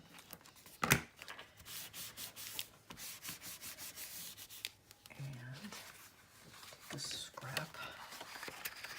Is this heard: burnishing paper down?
yes